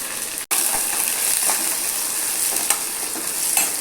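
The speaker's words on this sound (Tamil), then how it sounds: "வத்தல் போட்டு தாளிக்கும் போது நல்லா வாசனை இருக்குன்னு சொல்லுவாங்கள்ல" Continuous crackling sizzle of cumin, onion, curry leaves and dried chillies tempering in hot oil for sambar, loud and close, with a brief sharp cut near the start.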